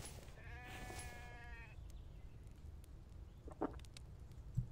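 A single sheep bleat in the video game Infected near the start, wavering and nasal, followed by quiet ambience with a few faint clicks and taps.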